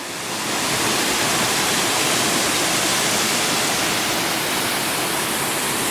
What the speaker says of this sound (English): geez, this waterfall is spectacular